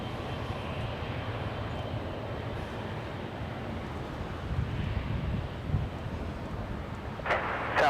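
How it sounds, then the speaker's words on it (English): An 18-year-old Southwest Boeing 737-700 airliner at Los Angeles airport, a broad, steady rumbling roar heard at a distance with gusty wind noise over the microphone, swelling slightly toward the end, with no talking. "Southwest 5069, a 737-700."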